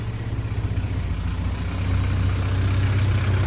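An Austin Mini 1275 GT engine idles steadily and close by, a low even rumble with light mechanical clatter that grows slightly louder partway through, and no voices.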